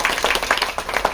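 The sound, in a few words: audience clapping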